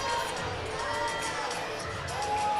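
Crowd at a cheerleading championship in a school gym cheers and shouts steadily, a dense roar with whoops and children's voices carrying throughout, loud and sustained without a break.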